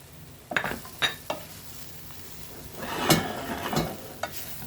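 Spicy potatoes with seasonings, salt and garlic are stirred in a pan, with a spatula scraping and clinking in a few sharp strokes over a faint, steady sizzle, close by.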